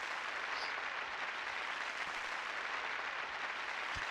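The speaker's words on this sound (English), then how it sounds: "Applause, applause." Steady, dense applause from a crowd in the Monster Rancher Evo video game, an even continuous wash of clapping that stays level throughout.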